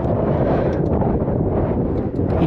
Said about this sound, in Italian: Il vento nel frattempo non accenna a diminuire.